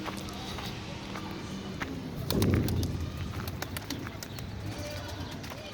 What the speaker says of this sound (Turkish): Kuşları hedefe çıkarayım ben.